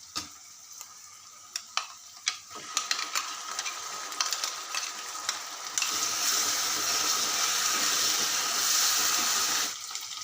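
Tomato puree sizzling and frying in a pan for a Maharashtrian-style mattar paneer, with scattered stirring clinks early on, then a steady, bright hiss that swells for several seconds before easing off; no voices.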